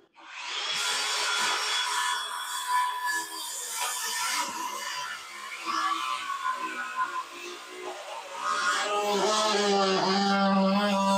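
Steady back-and-forth hand sawing through plywood to cut a notch, loud and close for the whole stretch, the rasping strokes continuing with only brief changes in pitch.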